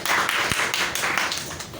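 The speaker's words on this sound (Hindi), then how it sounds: "एक बार जोरदार तालियां आप सभी के लिए।" An audience at a talk breaks into dense, steady applause that stays loud and even throughout, with no voices over it.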